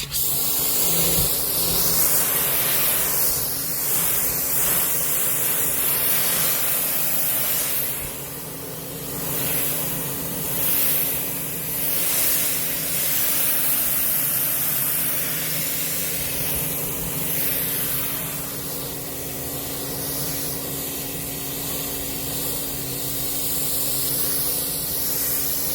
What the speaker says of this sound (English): And you turn up the pressure washer.